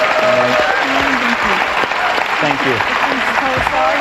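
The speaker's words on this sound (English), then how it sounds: "We have that and all this wonderful applause." Studio audience applause on a game show, loud and continuous, with a voice speaking briefly over the clapping.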